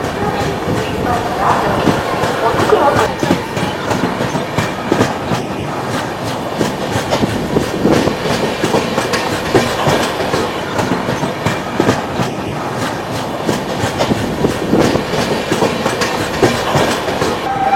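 The Mithila Express from Howrah to Raxaul runs at speed, its loud continuous rumble and rhythmic clickety-clack of wheels on rail joints filling the whole stretch, with no clear voices.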